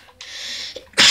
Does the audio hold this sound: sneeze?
yes